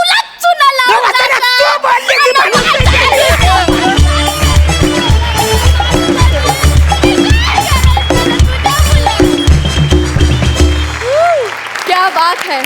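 A studio audience claps loudly and steadily after a Marathi comedy performance, a dense continuous wash of applause with crowd noise and a thumping musical beat underneath, sustained for several seconds before tapering off.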